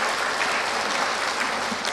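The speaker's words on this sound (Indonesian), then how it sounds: "Kita tepuk tangan untuk Bapak Presiden kita" Steady applause from a large audience at an opening ceremony for the Religious Affairs Minister's address, a dense, even clatter of many hands clapping throughout.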